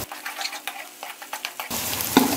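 Masala sizzling and frying in a pan while being stirred for beef muthi kabab gravy, with soft scraping strokes over a steady hiss that grows louder and denser near the end.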